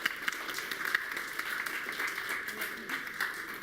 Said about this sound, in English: Big round of applause to Shruti and Sophia